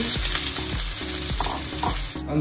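Onions and potatoes fry in a generous amount of hot oil in a frying pan, a dense, loud, continuous sizzle with rhythmic scraping of stirring, no voices.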